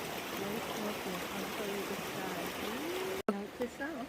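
A river near a trail bridge rushes in a steady broadband wash beneath a voice, continuing after a brief dropout near the end.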